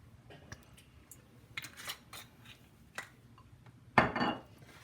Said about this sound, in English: I want to clean my spatula as well.